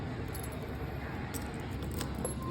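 The key set for a Yamaha Mio i125 scooter jangles softly and close by, with a few light metallic clinks over a quiet background.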